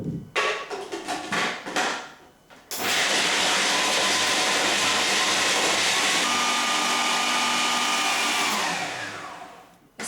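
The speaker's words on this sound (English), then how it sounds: "I'm going to put both sorts of nuts in and just grind them to a powder" A food processor grinds a mix of two kinds of nuts to a powder: a few short rattling pulses, then a loud sustained whirring roar that winds down near the end.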